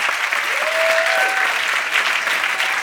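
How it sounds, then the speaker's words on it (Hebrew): Loud, steady applause from an audience at a sixth-grade end-of-year graduation party, continuous clapping throughout, with a brief whistle or cheer rising above it early on. "מחיאות כפיים."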